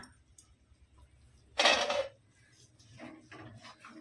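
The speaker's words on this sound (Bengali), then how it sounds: "এবার ঢাকাটা খুলে দেখে নিচ্ছি।" A metal lid comes off a pan of doi katla, Bengali carp cooked in a yogurt gravy: one short, bright clatter and scrape near the middle, then soft simmering and faint kitchen handling.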